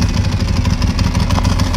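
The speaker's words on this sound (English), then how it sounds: "It's funny, this one here idling, you can hear the rattle." A classic motorcycle idles at a Willow Springs track festival, its steady, close, low engine rumble carrying a loose mechanical rattle throughout with no pause.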